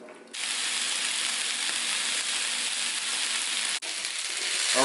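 Vegetables for chicken pot pie cook down in a pan with a steady, fairly loud hiss of sizzling that breaks off for an instant and then resumes, and no one speaks.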